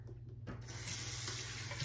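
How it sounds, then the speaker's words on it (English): Cool tap water runs steadily into a sink, rinsing platinum blonde pixie-cut hair after lightening; a continuous, close broadband rush that starts faintly and then builds and holds. "I'm going to go ahead and rinse this out with cool water."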